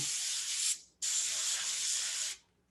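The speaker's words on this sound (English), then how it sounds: "let's just spray it in there" Paint sprays onto a female portrait in two long hissing bursts. The first runs almost a second and the second about a second and a half, each close and steady, with a brief gap between them.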